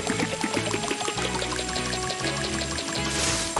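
Cartoon water pours over flowers as Marshall waters them in the PAW Patrol Rescue World game, a soft splashing stream running beneath bright, bouncy background music.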